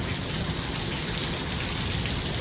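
Rain falling in wet weather, a dense, even hiss of drops spattering on surfaces, holding at a constant level throughout with no pauses, voices or other sounds.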